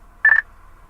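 A short, loud electronic tone from the voice recognition system in a 2014 Ram 1500 ST pickup's cabin, a single bright chirp of about a fifth of a second over a low steady hum, with no one talking.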